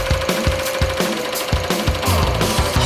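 An embroidery machine runs with a loose tension knob, giving a loud, fast, steady mechanical knocking and thumping, close up, with a continuous hum underneath and no talking.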